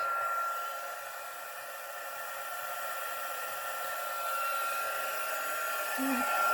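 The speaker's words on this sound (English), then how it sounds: "So I'll just cover that up before I get my heat gun out. Get your heat gun nice and hot." A heat gun blows hot air for melting embossing powder in a colour embossing craft, giving a steady close whooshing hiss with a constant motor whine that swells slightly toward the end, no talking.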